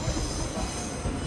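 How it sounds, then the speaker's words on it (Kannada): A retro-themed train in Japan running toward Lake Kawaguchiko, heard from on board as a steady, close low rumble of wheels and carriage with faint rail squeal. "ನಾವು ಇವಾಗ ಇನ್ನೊಂದು ಟ್ರೈನ್ ಹತ್ತಿದ್ದೀವಿ"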